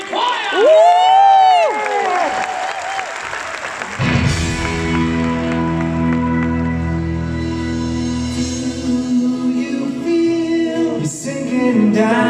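Concert audience claps and cheers loudly for a street choir for about four seconds, then the applause gives way to sustained music with singing as the choir begins performing.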